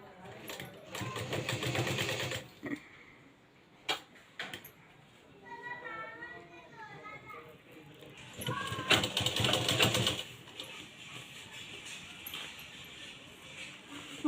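A sewing machine stitches blouse piping in short mechanical runs, its rapid rattling bursts starting and stopping between stretches of quieter handling, with someone talking at times in between.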